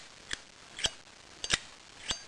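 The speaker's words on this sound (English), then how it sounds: "I can definitely tell that there's a little bit of a better ping now" Four sharp metallic pings from a Zippo lighter lid, spaced about half a second apart, bright and close, with silence between them.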